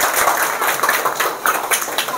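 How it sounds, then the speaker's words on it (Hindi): A room of students at a Hindi school gives a round of applause during a Teacher's Day talk: dense, continuous hand clapping from many people, close and loud, with no voices standing out above it. "इसके लिए तालियां होनी चाहिए"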